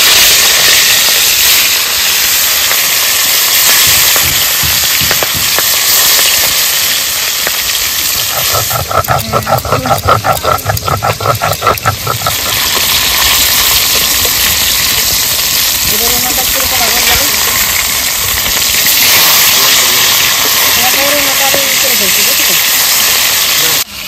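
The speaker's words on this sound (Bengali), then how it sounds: "তেল গরম হয়ে গেছে, মাছগুলো ভেজে নেবো।" Fish frying in hot mustard oil in a kadai over a Bengali village clay stove, a steady loud hiss and crackle running throughout, with a voice speaking over it.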